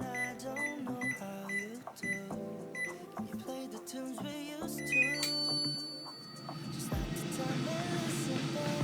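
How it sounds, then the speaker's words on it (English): An air fryer being set to 160 degrees Celsius to preheat, with a run of electronic beeps and tones followed by a steady whirring fan hum that settles in near the end. "let's preheat the air fryer"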